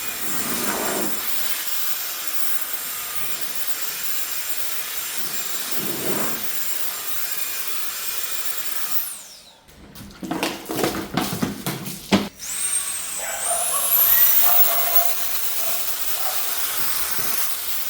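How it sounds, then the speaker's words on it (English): Quiet background hiss gives way to a ZoomYao Max 2-in-1 handheld air blaster and vacuum starting up, with bursts of rushing air and a whining motor running loudly. "powerful air blasting action to tackle stubborn dust or compact vacuum for quick cleanups"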